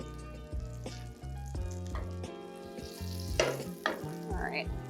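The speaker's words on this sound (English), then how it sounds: "we're just gonna toast the rest of our buns here" Hamburger buns toasting in butter in a pan, giving a steady close sizzle with intermittent stirring knocks and crackles throughout.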